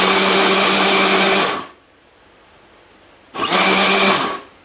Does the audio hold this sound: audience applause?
no